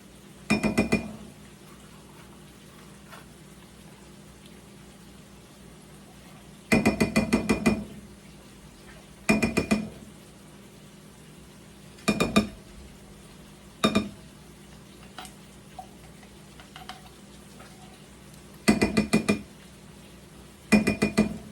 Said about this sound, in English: I'm going to go ahead and get all of our soup into our casserole dish